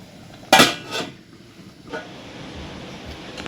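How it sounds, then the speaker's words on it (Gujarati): A metal lid clanks down onto a cooking pot of Gujarati guvar dal dhokli set on low gas, one sharp close clatter followed by a softer rattle and a faint later knock against quiet kitchen background. "આપણે એને સાત આઠ મિનિટ ઢાંકીને મૂકી દઈશું"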